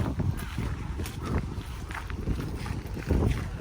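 Steady gusts of wind rush across the grounds and gardens of a country manor, buffeting the microphone in loud, uneven surges that swell and ease throughout.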